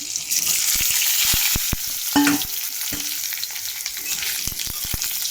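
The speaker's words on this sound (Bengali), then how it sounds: "আলুটা লাল লাল করে ভাজা হোক।" Potatoes fry with cumin in a pan, a close, steady sizzle broken by clicks and scrapes of stirring, with no talk.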